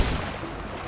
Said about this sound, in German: Ja, diese Waffe, wie die schießt.